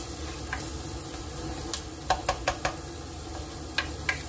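Onions frying in a pan for kare-kare, with a steady sizzle under a run of sharp utensil clinks and scrapes as they are stirred, close and without talk.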